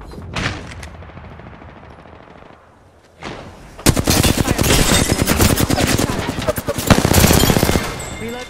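Automatic weapon fire in the battle royale shooter Apex Legends, with a few isolated shots early, then loud sustained rapid bursts dominating the second half, a brief pause between volleys.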